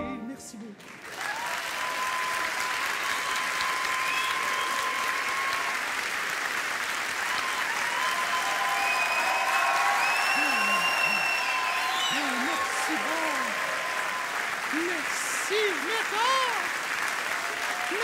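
A live comedy-show audience, with backstage crew joining in, applauds steadily: dense, full clapping with a few whistles and cheers that holds strong for the whole stretch.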